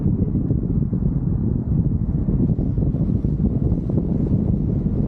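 Strong wind buffets the microphone in a constant loud low roar during paragliding over Bozdağ, Ödemiş, with no pause for the whole stretch.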